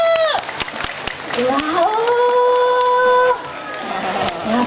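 Scattered audience applause at a Samurai Japan stage show featuring the Doala and Tsubakuro mascots, sharp claps at first under a loud exclamation and a sustained voice, then thinner clapping and crowd murmur.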